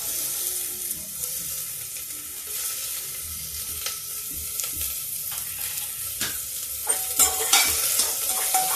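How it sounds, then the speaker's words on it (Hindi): Onion added to hot oil in a pan for baingan kofta sizzles and fries steadily while a spoon stirs and scrapes it, with sharper clinks and stirring clatter building toward the end, close and without voices. "अब डाल रहे हैं इसमें प्याज।"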